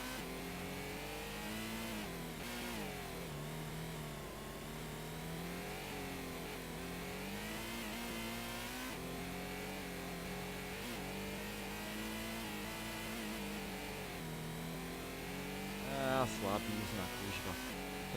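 A race car engine in the video game Gran Turismo revs and shifts on a track, a continuous buzzing drone that rises and falls through gear changes, with a brief louder burst near the end.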